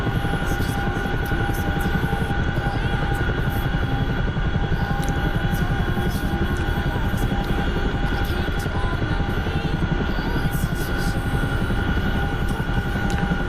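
A steady, loud engine drone with a high whining tone holds without a break as an aircraft makes its approach to land near a runway infield, close and unchanging, with no voices over it.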